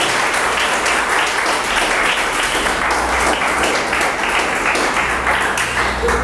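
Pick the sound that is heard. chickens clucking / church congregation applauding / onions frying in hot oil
church congregation applauding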